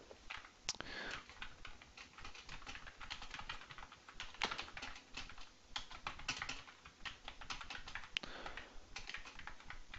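Rapid, continuous tapping on a computer keyboard while a title is typed in, dense irregular clicks with brief pauses, close and quiet, with no talking.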